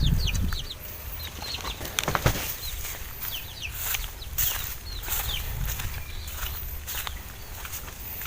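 A hardworking backyard laying hen clucks in short, soft bursts, with brief chirps and light rustling over a steady low outdoor hum.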